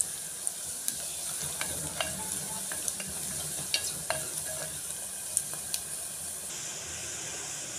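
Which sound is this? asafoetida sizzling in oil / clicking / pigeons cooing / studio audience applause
asafoetida sizzling in oil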